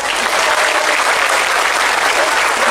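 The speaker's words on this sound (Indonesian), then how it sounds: "Tepuk tangan untuk NU." Loud, sustained audience applause fills a religious sermon gathering in Suradadi, Tegal, a dense, even roar of many hands clapping without a break and no voice above it.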